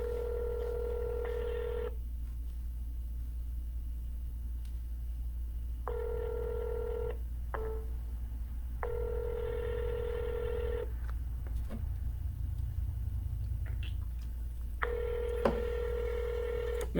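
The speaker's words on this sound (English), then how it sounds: "I'm gonna dial for a few more minutes" An outgoing phone call on a cold-calling line rings repeatedly. Evenly spaced ringback tones of about two seconds each are separated by longer pauses, heard clearly over a low background hum.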